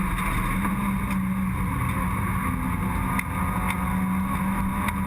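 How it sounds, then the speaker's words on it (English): Holden Astra race car lapping the Eastern Creek circuit, a steady loud engine drone with a sustained low hum holding throughout, no voices. "Let's have a listen to the Holden Astra work its way around Eastern Creek."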